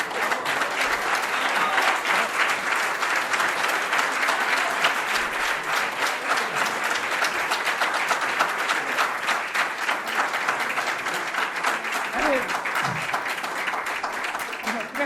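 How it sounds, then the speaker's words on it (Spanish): Sustained, dense applause from a seminar audience at a panel on capitalism, the state and social rights, loud and steady for about fifteen seconds without a break. "Gracias por los aplausos."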